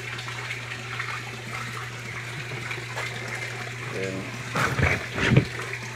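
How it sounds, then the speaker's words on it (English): Water swirls and trickles inside a DIY aquaponics swirl filter beside a fish tank and sump, a steady close wash with a constant low pump hum and a brief louder splash near the end. "you can see the plumbing mechanics spinning the water"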